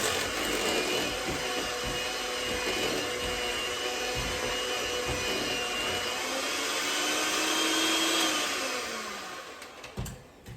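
A blender whirs steadily, mixing vegan lemon bundt cake batter in a loud, continuous drone for about eight seconds before winding down and stopping near the end.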